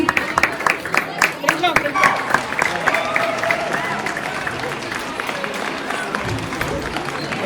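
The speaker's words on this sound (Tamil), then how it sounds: "ஒரு பெரிய கைத்தட்டல கொடுக்கலாமா" An audience at a Tamil community Diwali festival in Central Florida applauds the children, with brisk clapping at first that blends into steady crowd noise and a faint tone underneath.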